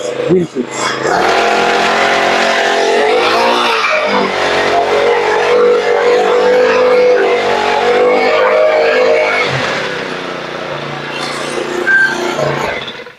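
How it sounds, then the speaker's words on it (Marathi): An engine-powered weeder running during a factory run test, a loud continuous motor drone that swells and eases, with people talking over it. "रन टेस्ट म्हणजे नेमकं मशीन चालते की नाही त्याची अलाइनमेंट व्यवस्थित आहे की नाही"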